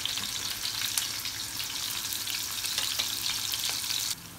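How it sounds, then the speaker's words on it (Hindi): Green onion tops fry and get stirred in a pan while cooking a potato and egg bhujiya, with a steady bright sizzle throughout that drops slightly at the very end. "30 सेकंड तक हिलाने के बाद ये हल्का सा सॉफ्ट होगा।"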